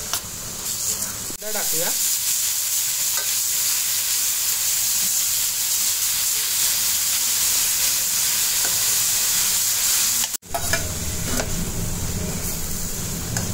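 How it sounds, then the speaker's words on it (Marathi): Cumin seeds hit hot oil already holding mustard seeds, giving a loud, steady sizzle that runs nearly the whole time with stirring clatter. A brief break comes near the end before the frying resumes, and a voice speaks briefly early on. "आता जिरं टाकून घेऊया आपण त्यामध्ये घालूया।"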